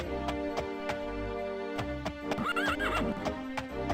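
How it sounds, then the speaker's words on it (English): In the video game The Elder Scrolls II: Daggerfall, a horse whinnies with a rising, wavering call over steady hoofbeats and a looping musical background, all clear and close. "The horse neighed."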